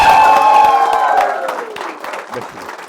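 Audience applause and cheering at a stage interview welcoming an education institute's founder, loud crowd noise at first that gradually thins and fades, with voices mixed in.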